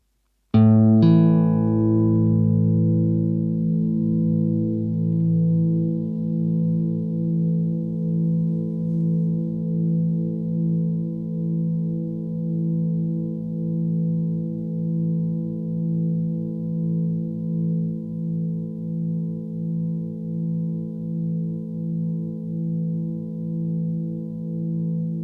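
SOMA COSMOS drone synthesizer with reverb: a sustained, layered tonal drone that sets in abruptly and holds steady with slowly pulsing swells, no voices.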